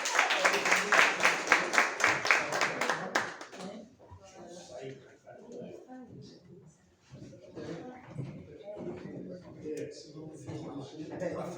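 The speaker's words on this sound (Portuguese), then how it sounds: "Salva de palmas, por favor" An audience at a literary academy ceremony claps in steady rhythmic unison for about three seconds for an honoree, then stops as several people talk nearby.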